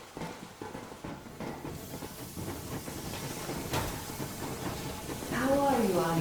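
The steam locomotive Yermak in Metro Exodus rumbles and hisses as it gets moving, with rail clatter that builds louder toward the end under voices talking.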